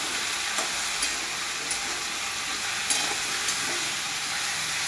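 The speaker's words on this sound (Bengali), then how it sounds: "এবার একসাথে ভাজবো।" Pumpkin leaves and vegetables frying together in a pan, with a loud, steady close sizzle broken by a few soft scraping taps as they are stirred.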